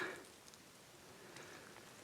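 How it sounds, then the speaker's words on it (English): Raindrops falling on a forest trail in the Smoky Mountains during a thunderstorm, a faint, steady patter of scattered drops with soft ticks over quiet background hiss. "Raindrops."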